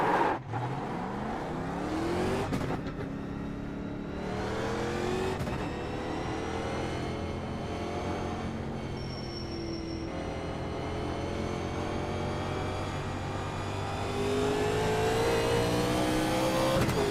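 An ARCA race car in iRacing lapping Rockingham, its engine note climbing and dropping through repeated shifts and long pulls, loud and constant from start to finish.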